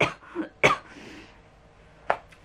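A lingering cold or flu cough comes as a couple of close, short hacking coughs near the start, then a pause and one more sharp cough, with no other sound around them.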